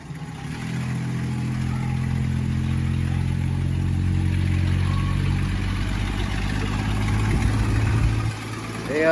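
An ice cream truck's engine idles with its music switched off, a steady low rumble close by and loud for most of the stretch before easing at the very end.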